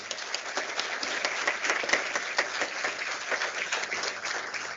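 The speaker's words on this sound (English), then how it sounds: "We will have a round of applause for you." An audience at a university student chapter launch in Jaipur claps in dense, continuous applause, many hands overlapping at an even level with no speech over it.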